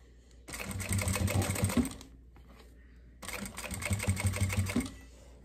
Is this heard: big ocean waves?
no